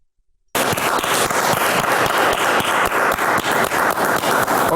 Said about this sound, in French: on peut applaudir pour cette femme